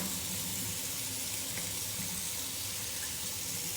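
A lace wig being washed under cool water from a tap, a steady continuous rush of running water filling a sink, close and even with no talking.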